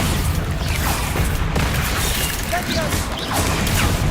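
Bombarda blasting spell going off in the Hogwarts Legacy video game, a dense run of booms and crashes amid continuous combat noise, with a voice speaking over it.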